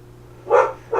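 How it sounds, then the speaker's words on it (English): A pet dog barks indoors at the neighbors in two short, loud bursts close by, with a brief pause between them. "Sorry if you can hear my dog barking."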